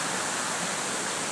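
Rushing water from the Spread Eagle waterfall in Shillong makes a steady, loud, close roar with no other sounds.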